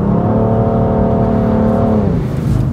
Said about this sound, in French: Et des vrais pneus, on les entend d'ailleurs, hein, vous les entendez travailler là.